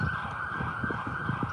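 An emergency siren wails outside as a vehicle passes, a steady high tone held through the clip with a low engine rumble underneath.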